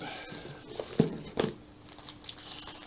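A cheap $2 plastic rain poncho crinkles and rustles as it is handled up close, with a few sharper crumpling bursts and softer rustling between them.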